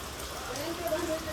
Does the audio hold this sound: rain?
yes